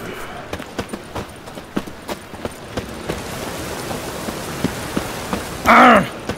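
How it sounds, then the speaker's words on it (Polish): Rain falls in The Witcher 3: Wild Hunt, a soft steady patter under scattered sharp clip-clop taps, with a brief louder tonal burst near the end. "Zanosi się na deszcz."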